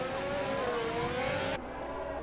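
Race cars in an X3 tier sim racing round in the USA, a steady high engine drone with a gliding pitch as they head into the braking zone, then cutting abruptly to a duller tone.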